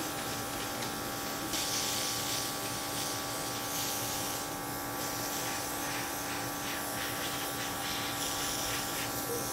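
A Luminess Icon Pro airbrush sprays concealer makeup, giving a constant close buzzing whir with an airy hiss that runs steadily throughout, no speech.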